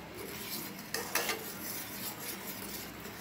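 Tea being stirred in a pot, soft clinks and scrapes of a utensil against metal, faint and close, with a few sharper taps in the quiet.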